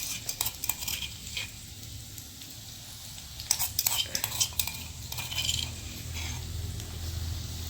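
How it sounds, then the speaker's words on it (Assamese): Crushed ginger and garlic go into chicken curry in a pan, with a ladle clinking and scraping against the metal over a light sizzle, in busy irregular bursts. "এতিয়া আদা নহৰুখিনি দিম। আদা নহৰু এনেকৈ খুন্দি লৈছিলোঁ, সেইখিনি দিম।"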